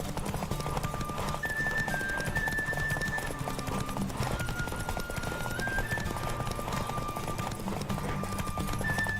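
Horse galloping in a race in the video game The Witcher 3, with rapid, steady hoofbeats running throughout and close over game background sound.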